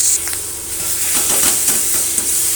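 Onion, garlic, beans and shrimp paste frying in a pan give off a steady loud sizzling hiss, with bursts of spattering crackle rising and falling throughout.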